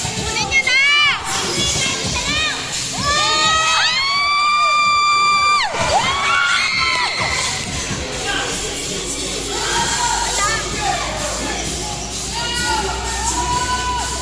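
A crowd at a championship basketball game screams and cheers together in loud, shrill bursts of shrieks and whoops, with shouting voices mixed into the steady roar.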